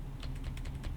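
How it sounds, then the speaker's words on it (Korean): Arrow keys tapped on a computer keyboard while nudging a crosshair in stencil-cutting software, giving roughly eight quick, light clicks in an uneven rhythm over a steady low hum. "그 키보드의 화살표로 움직여서 움직일 수 있어요."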